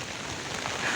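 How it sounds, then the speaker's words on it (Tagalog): Steady rain hisses down outdoors in the Philippines, a dense, even patter surrounding someone out walking, close and continuous without any voices. "Maulan dito"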